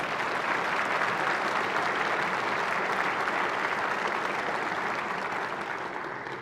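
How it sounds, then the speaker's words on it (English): Dense, steady applause fills the chamber at a State of the Judiciary address, a large audience clapping continuously at an even level before tapering slightly at the close. "So you deserve a big round of applause"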